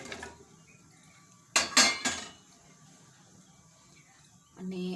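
Drumstick pieces tumble into a metal pressure cooker in a short cluster of clattering knocks and clinks, close by, in an otherwise quiet kitchen, with a faint later clatter.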